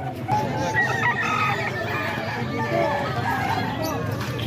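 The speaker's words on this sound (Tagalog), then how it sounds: "Boss, manok siya" A rooster crows loudly and continuously over a steady bed of background babble, with clucking hens around it on a Filipino household's morning yard.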